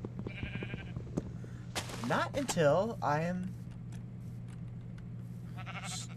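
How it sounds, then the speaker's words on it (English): A Minecraft sheep gives a wavering bleat mid-clip, with someone talking and background game sounds around it. "Those are just sheep."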